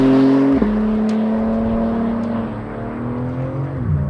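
A BMW M3 CS pulls away, its engine note dropping sharply after a gear change and then climbing steadily, loud and close, with no talk over it.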